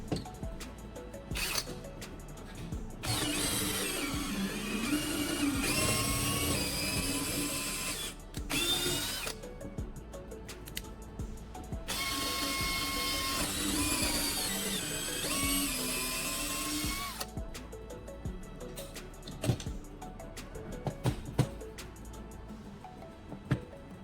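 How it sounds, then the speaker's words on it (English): A small wooden block is screwed onto a wooden base with a power drill to form a stopper for an angle grinder; two long, loud stretches of whirring driving run with short pauses and clicks between them. "I'm firmly attaching the small wooden block to the base using screws, completing the stopper mechanism."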